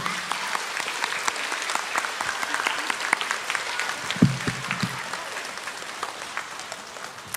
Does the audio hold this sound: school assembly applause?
yes